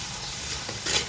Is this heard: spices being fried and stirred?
yes